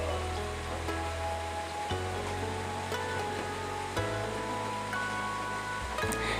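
Chopped onion and green chili fry in a pan in a village kitchen, giving a steady, close sizzling hiss that runs without a break, with a faint tonal hum underneath.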